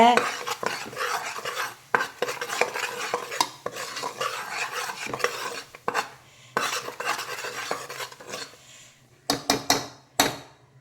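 Tomato thokku with turmeric stirred in a pan, close repeated scraping and clanking of a metal spoon against the pan in bursts, with a faint sizzle and no talking.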